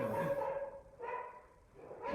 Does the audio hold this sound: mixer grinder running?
no